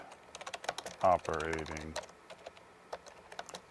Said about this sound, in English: you can tell by my typing skills that that's quite a lot of work to do every single time